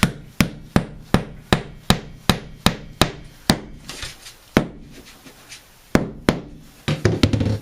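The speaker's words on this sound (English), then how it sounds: "Okay, I'm going to finish nailing this." Sharp hammer blows drive nails into a closet floor, landing in a steady rapid series of loud, close knocks, then spacing out before a final quick flurry.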